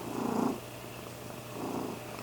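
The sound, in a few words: domestic cat purring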